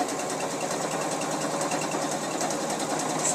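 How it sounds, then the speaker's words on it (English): A sewing machine stitching thick knit sweater fabric runs steadily at speed, its rapid mechanical chatter continuous and close, with no voices over it. "My sewing machine's not going to like me when we're done"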